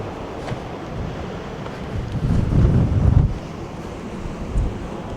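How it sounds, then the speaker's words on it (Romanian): Strong wind buffets a microphone outdoors in the Cotswolds countryside, a steady low roar that swells into a heavier gust midway and eases off again, with no voices. "bate foarte, foarte tare vântul"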